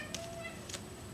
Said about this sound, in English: That was my cat, if you heard that. He was meowing.